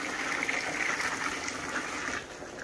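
Hot water, about a jugful, poured into a pot of softened lentils and chicken for haleem, a steady rushing gush and splash close by that continues throughout before easing at the end.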